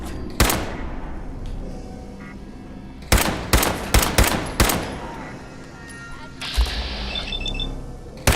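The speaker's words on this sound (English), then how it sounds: "Oh god, I'm shooting the wall." Gunfire in the video game Fallout 4 during a fight with raiders at a car assembly plant: loud single shots, then a quick burst of several rounds, with more shots near the end.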